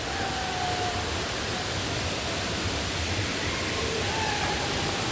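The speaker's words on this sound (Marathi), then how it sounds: "पण इथे फक्त धबधबा आहे मोठा" The large Savatkada waterfall gives off a continuous, loud roar of rushing water, a steady broadband wash with no breaks, heard alone without any voices.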